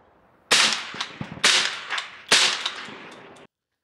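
Three sharp suppressed shots from a 5.7x28 pistol fitted with a Grunt Mini 5.56 suppressor crack out about a second apart, each followed by a short echoing tail.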